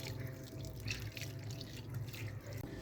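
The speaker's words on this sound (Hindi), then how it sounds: "एक कप पानी का डालेंगे।" Water pours steadily into a pressure cooker, a soft continuous splashing and trickling close by.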